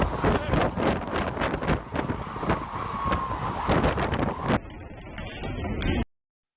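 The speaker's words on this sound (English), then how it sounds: "A powerful gust of wind blew an entire group of people off a rooftop" A powerful storm gust roars across a rooftop, buffeting the microphone with loud, continuous, turbulent rushing for several seconds before cutting off abruptly.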